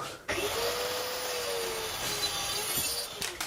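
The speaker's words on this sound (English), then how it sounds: "we'll get as close as we can with the track saw" A track saw makes a shallow cut through wood, its motor starting abruptly and holding a loud, steady whine with a faint rising tone for about three seconds before it cuts off.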